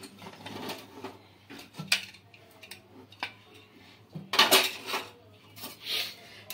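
A pressure cooker of khichuri is opened after its whistles, with a run of metallic clanks and clatter from the lid and pot, sharp and close, with brief scraping between the knocks.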